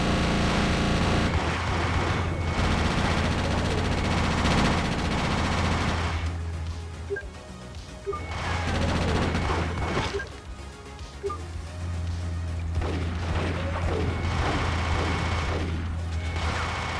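Dense, continuous gunfire and crashes from the video game GTA Chinatown Wars, rapid machine-gun bursts with brief lulls, loud and busy throughout.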